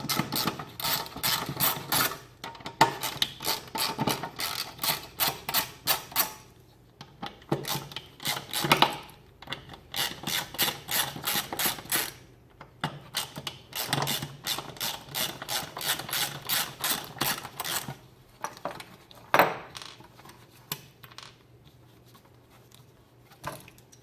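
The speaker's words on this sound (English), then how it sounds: "You're going to need your small ratchet." A small hand ratchet clicks rapidly in long runs while bolts are undone on a Foxbody Mustang, the dense pawl ticking loud and close, broken by brief pauses between bursts, with no talking.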